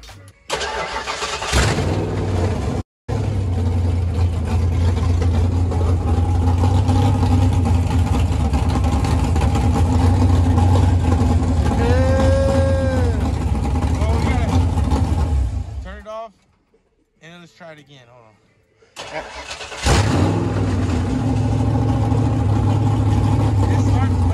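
A Foxbody Ford Mustang V8 engine rumbles loudly, revving up and down, cutting out briefly, then firing up again to a heavy idle; voices are faint beneath the engine at points.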